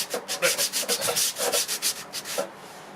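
An MDF door being sanded by hand: a dozen or so rhythmic, close scraping strokes in a steady back-and-forth pattern, with no voices.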